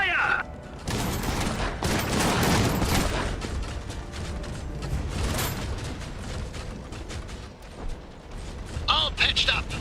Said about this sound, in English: I am receiving enemy fire.